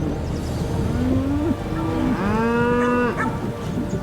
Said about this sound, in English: they cannot afford to take their eyes off their most valuable asset, their breeding cows and calves